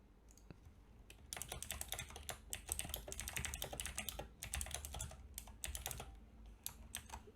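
Fast, close clicking on a computer keyboard while HTML code is entered, a dense run of keystrokes after a quieter start with brief pauses, no speech.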